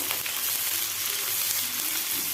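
A constant crackling sizzle of chopped onion frying gently in a pan on low flame, close and even, with faint stirring and no voices.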